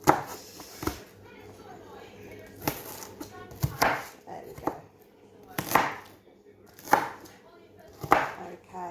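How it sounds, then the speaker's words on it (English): A knife chops onion on a cutting board while preparing paella, giving about eight sharp, close knocks at irregular intervals, with someone talking quietly between the cuts. "And chop this way."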